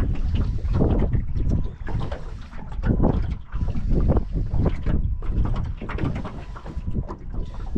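Strong wind gusts over a lake while fishing from a boat, a loud constant rumbling roar buffeting the microphone with surging swells and no talk.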